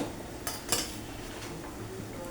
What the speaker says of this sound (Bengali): এবার আমি দিয়ে দেবো সবজিগুলো